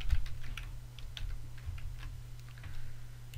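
Fingers type quickly on a computer keyboard during a programming tutorial, producing a steady run of soft, close clicks over low background hum.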